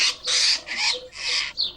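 Harsh squawking bird calls at an ephemeral pond, four or five loud, close cries in quick succession with short gaps and no voices.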